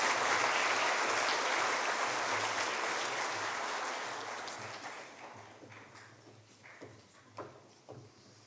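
Sustained applause from a school audience for Year 12 award recipients at a 2022 awards ceremony, broad and steady at first, then thinning out into scattered claps as it fades.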